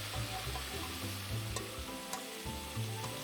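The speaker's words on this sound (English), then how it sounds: "Stir fry." Steady sizzling of food being stir-fried in a wok in the video game Immortal Life, a continuous bright frying hiss with soft repeated stirring pulses and no voices.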